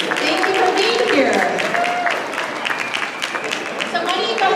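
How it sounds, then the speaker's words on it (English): A crowd at a soy and tofu festival cooking demonstration applauds a chef taking the stage, fairly moderate clapping that carries on under a voice talking over it. "please give a big round of applause to Tamako Park Lee"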